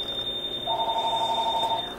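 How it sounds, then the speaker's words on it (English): A phone rings indoors, a steady electronic tone that holds for over a second at moderate loudness. "The phone is always ringing."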